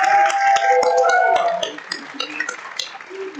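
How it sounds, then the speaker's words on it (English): An audience at a live film jam event in Eindhoven applauds the judges: scattered claps over a steady bed of crowd noise and ringing tones, loud at first and then easing off. "a round of applause for our judges"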